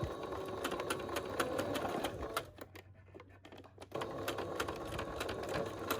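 A sewing machine stitches around a thick homemade fabric filter mask, its rapid needle ticking loud and close, dropping to a quieter lull midway before running again.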